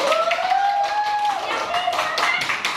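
A small group of teachers in a classroom claps hands together, a quick patter of clapping heard under a sustained, sung or drawn-out voice throughout.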